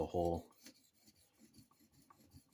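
A steel knife blade scraping across a Japanese water stone from heel to tip, giving short, faint rasping strokes that repeat at a steady pace, with one louder low burst at the very start.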